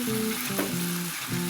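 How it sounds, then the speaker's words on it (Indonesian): Red and green chilies, spring onion and onion frying in sesame oil in a pan, a close, steady sizzle with brief stirring scrapes and a tonal background hum. "bisa kita tambahkan potongan cabai merah dan cabai hijau, daun bawang dan juga bawang bombay"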